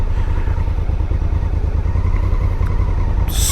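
A motorcycle riding through a surf town, with a steady loud engine drone and road rumble throughout and a brief rushing noise at the end.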